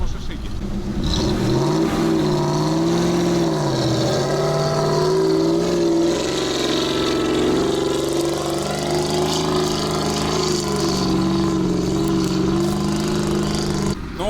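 A GAZ-66 Shishiga 4x4 truck engine revving hard off-road, a loud, steady drone with rising and falling pitch as the throttle varies, held continuously for the whole stretch.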